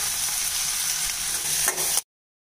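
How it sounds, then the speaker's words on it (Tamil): Chopped eggplant sizzles and fries in a pan with onion and tomato, a steady close hiss with a brief stir near the end before it cuts to silence. "இப்போ நான் பொடியாக நறுக்கி வச்சுருக்கேன் கத்திரிக்காய் சேர்த்துக்கிறேங்க"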